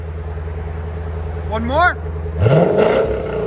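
A 2015 Lexus RC F 5.0L V8 with aftermarket Valvetronics Designs mufflers idles with a steady low rumble. It then revs twice, each a short rising roar close by, and a voice speaks briefly between the revs.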